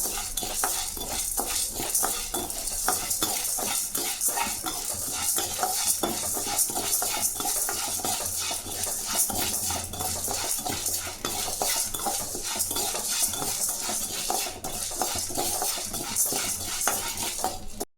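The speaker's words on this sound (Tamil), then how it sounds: "பருப்பு நல்லா வறுத்துச்சு பாருங்கள்" Chana dal dry roasting in a pan over a low flame, stirred steadily with a utensil, giving continuous scraping and light rattling with faint sizzle throughout, no voices.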